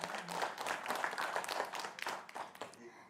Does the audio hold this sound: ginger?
no